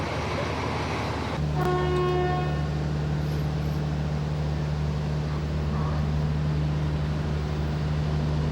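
A train departing Larissa station in Greece sounds a sharp horn blast, then hums and drones steadily as it pulls slowly away, with a constant low engine tone throughout.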